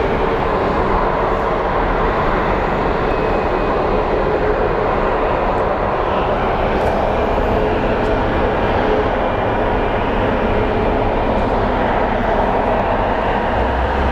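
A WestJet airliner bound for Calgary at Phoenix Sky Harbor Airport gives a steady, loud broadband roar that holds unchanged for the whole stretch, with no voices.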